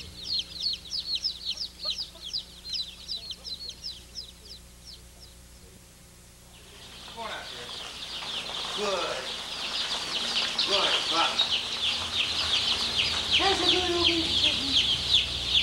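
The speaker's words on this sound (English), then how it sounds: "Try to listen to the chicks and learn their language of contentment. They make many sounds of happiness." Young chicks cheep in rapid, high chirping bursts, then a louder flock joins with soft clucking and peeping in a busy, continuous chorus close by.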